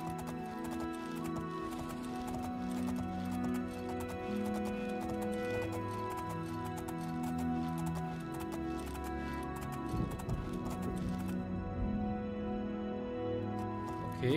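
Horse hooves clip-clop faintly in the fantasy game The Elder Scrolls IV: Oblivion, under a sustained ambient music bed with tonal game effects, with no talk.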